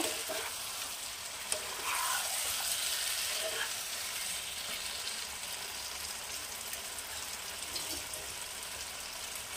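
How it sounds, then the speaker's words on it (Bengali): Boiled potatoes are stirred into a hot pan for a Bengali winter vegetable curry, giving a loud, continuous bright sizzle with a few spoon knocks and scrapes, close and unbroken throughout. "সিদ্ধ আলুগুলো। একটু নাড়াচাড়া করে নেব।"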